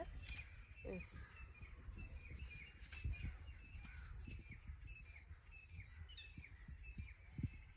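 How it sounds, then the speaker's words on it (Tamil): Faint morning bird calls, crow caws and sparrow chirps, rise over a low rumbling background, scattered and somewhat distant. "நல்ல குருவி சத்தம், காக்கா சத்தம் இதெல்லாம் நல்லா கேட்கும் காலையில்"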